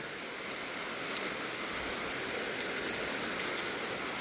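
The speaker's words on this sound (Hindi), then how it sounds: "तो अभी तो बहुत तेज बारिश है गई है फिर से" Heavy rain pours down steadily in a village, a dense, even hiss of drops drumming on surfaces, continuous and loud with no voices.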